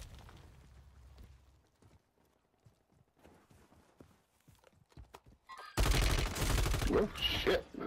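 Burst of dense, loud gunfire in the Call of Duty video game erupts after a quiet stretch of faint movement and thuds, rapid shots packed together near the end.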